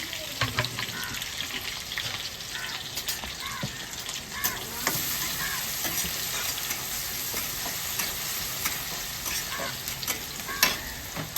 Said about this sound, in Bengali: এটা একটু রেড রেড করে ভাজা হোক।